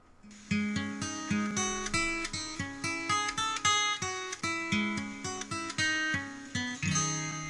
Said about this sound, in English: we've got the intro guitar here, which just sounds like this